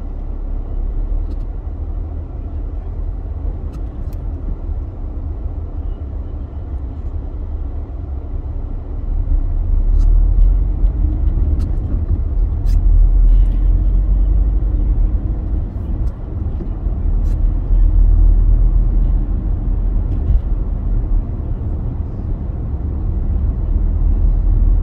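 A car drives through streets on the Millerston and Stepps side of Glasgow. Its engine and road noise make a steady, close, low rumble that swells slightly at times, with faint clicks above it.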